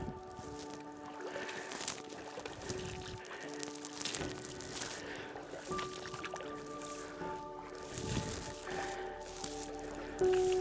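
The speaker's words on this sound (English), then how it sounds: "We got to cross this creek several times to get into this place the right way." A hunter wades across a creek on a cold-front whitetail deer crossbow hunt, with repeated sloshing and squishing steps through water, close and moderately loud, with a few quiet voices.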